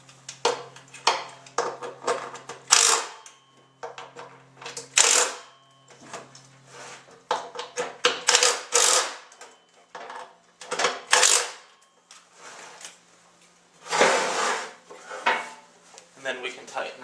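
Bolts tightened on a Diamond Jet 1200 dust containment motor: close metallic ratchet clicks and clinking in short bursts separated by brief pauses, with some clattering of metal parts.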